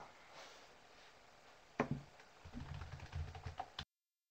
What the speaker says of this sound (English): And the typing you hear